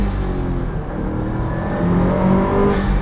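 A Subaru GC8 widebody with an STI engine swap rumbles and revs in a continuous, moderately loud throaty note, rising slightly near the end.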